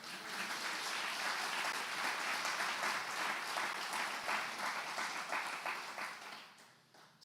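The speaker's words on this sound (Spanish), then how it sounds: "¿Por qué no le da un fuerte aplauso al Señor?" A church congregation gives loud applause, a dense, sustained roar of many hands that holds for several seconds and then fades near the end.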